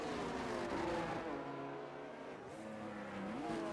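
A Haas Formula 1 car in a racing video game accelerating down the main straight at Zandvoort, its high engine whine rising and shifting through gears, steady and continuous with no voices.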